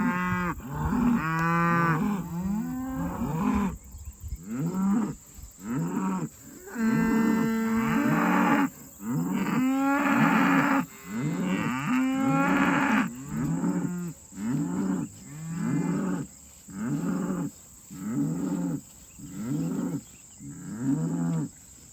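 A herd of cattle moos repeatedly on a farm, long loud bellows following one another in a steady run, some close and some overlapping, with no talk.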